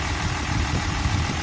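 A Cummins 6.7 diesel pickup engine idles steadily with its radiator just replaced while coolant is topped off, a low, even, continuous rumble up close with no speech.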